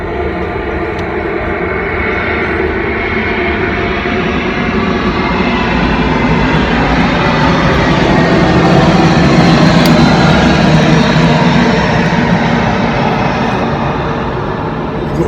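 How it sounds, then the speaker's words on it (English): A steady, loud roar of aeroplanes coming in to land, a broad continuous engine rumble that swells gently toward the middle and holds without a break. "We've got plenty of aeroplanes coming in today."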